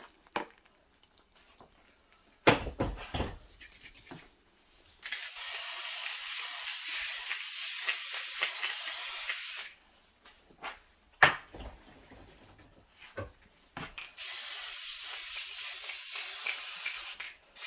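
Two long hissing bursts of cooking spray onto loaf pans, each several seconds, with light clatter and handling noises around them.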